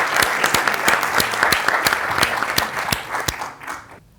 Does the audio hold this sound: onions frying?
no